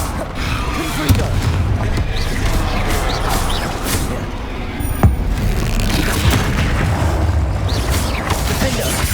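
Confringo fire blast spells in the Hogwarts Legacy video game, booming impacts and crackling bursts over a dense, continuous battle rumble, with shouted spell calls mixed in.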